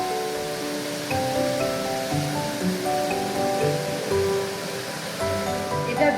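Spice paste hitting hot oil with whole cumin seeds and a bay leaf in a pan, a steady broad sizzle that swells louder partway through, close up with no talking, while cooking Bengali cauliflower and potato curry.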